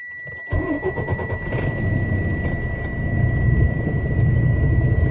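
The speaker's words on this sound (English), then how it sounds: "I'll start the truck." A truck's engine cranks and catches after a quiet moment, then settles into a steady, close, rumbling idle that grows slightly louder, with a constant high tone running throughout.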